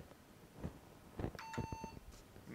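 An IBM PS/2 Model P70 computer gives a short electronic beep, a brief clear tone in the middle of faint clicks and keyboard-like taps, quiet overall.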